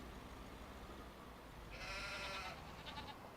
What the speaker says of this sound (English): These sheep here, they will eventually leave us.